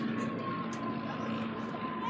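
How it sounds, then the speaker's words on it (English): An airplane passes overhead near an Arizona airplane museum, heard as a steady, loud engine drone with a sustained hum throughout. "Oh, plane's in the air."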